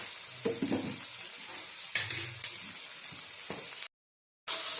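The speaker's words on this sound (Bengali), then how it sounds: "দেখুন, টমেটোটা ভাজা ভাজা হয়ে গেছে" Tomato frying with salt and spices in a pan for ghugni, a soft continuous sizzle with a few stirring scrapes and clatters before a short dropout of silence.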